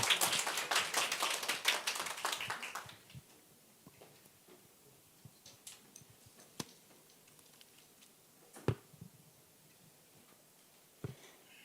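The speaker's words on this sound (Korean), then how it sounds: "나오실 때 우리 좀 박수로 환영할게요." A church congregation at a Sunday worship service claps to welcome a missionary speaker, with a brief burst of crisp hand claps that quickly fades into near silence and a few scattered taps.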